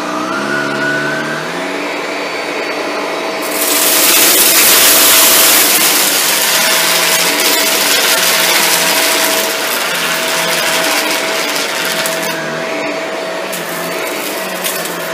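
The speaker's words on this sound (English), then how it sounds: "Sometimes you have to lift the vacuum up a bit on the backstroke to get the nozzle over top of some debris." Shark Rotator Lift Away Speed NV682 vacuum cleaner running loud and close, a steady whining motor hum that surges into a harsher rushing roar as the nozzle works over debris, then settles back, with no talking.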